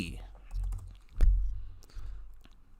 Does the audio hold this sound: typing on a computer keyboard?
yes